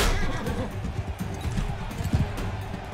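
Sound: horse neighing in Mount & Blade 2 video game

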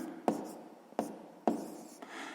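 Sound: pen writing on paper

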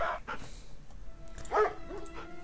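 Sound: attack dogs barking in video game Red Alert 3

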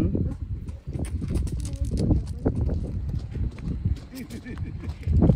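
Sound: horse hooves clip-clopping at pumpkin patch

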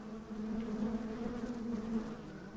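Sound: honey bees buzzing around hives

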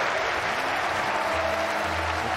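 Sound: crowd applauding at Rocket League esports finals

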